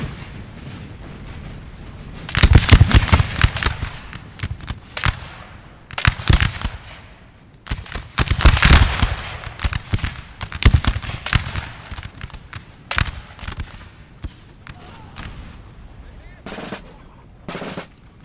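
Musket volleys crackle and pop as infantry, including Austrian grenadiers, open fire in a Napoleon Total War historical battle, with ragged bursts of gunfire repeating across the scene and someone talking over them.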